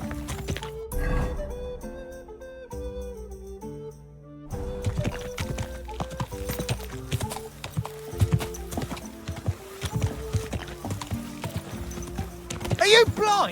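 Horse hooves clip-clopping in Kingdom Come Deliverance II, a steady rhythmic trot over game music with occasional spoken lines from characters.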